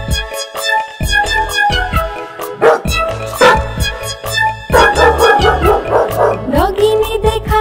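Cartoon dog barking in a Hindi children's nursery rhyme, rhythmic yips and bow-wows set against bouncy music with a steady beat throughout.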